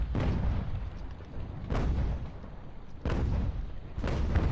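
Sailing-ship cannons firing in the naval battle game Ultimate Admiral: Age of Sail, four heavy booming broadside blasts spaced a second or so apart. Each blast leaves a rumbling tail that runs into the next, loud and with no talking.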